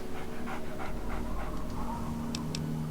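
Dogmeat, the dog companion in the video game Fallout 3, panting in quick rhythmic breaths, close and steady over a low in-game ambient hum, with a couple of short brighter game sounds near the end.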